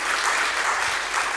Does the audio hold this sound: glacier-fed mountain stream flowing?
no